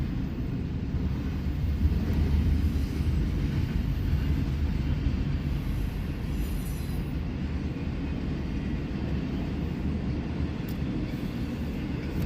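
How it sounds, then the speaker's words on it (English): A CSX freight train rolls past on the line toward Henderson, Kentucky, a steady, loud low rumble of wheels and cars that holds evenly throughout with no let-up. "And this train is going towards Henderson Kentucky, and Evansville, Indiana"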